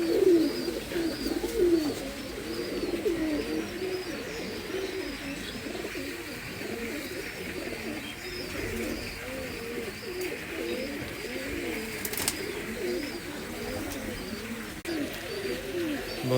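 Imported Indian Madrasi pigeons cooing close by, with soft, rolling coos that overlap continuously and an occasional brief chirp or wing noise.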